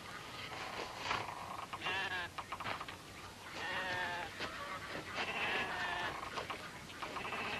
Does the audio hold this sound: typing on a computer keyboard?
no